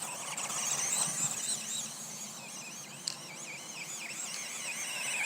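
A small GPTOYS S916 budget RC car motor whines high and strained as it pushes through grass, its pitch wavering up and down with the load, with a faint sharp click midway.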